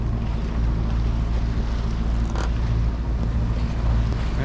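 A sailboat under full sail in light wind also runs its engine, producing a steady low motor hum close by, mixed with wind buffeting the microphone and the wash of water.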